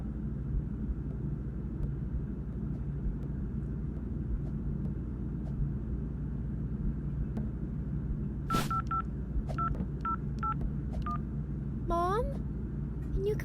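Telephone dialing tones, a short run of evenly spaced keypad beeps followed by a rising electronic warble, over steady low rumbling background noise.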